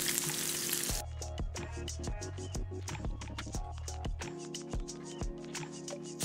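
Sausage pasta ingredients sizzle and fry steadily in a pan, with occasional taps and stirring clatter over the constant crackle.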